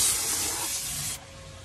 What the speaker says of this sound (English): wiping down the dashboards, all the panels, steaming those out nice and good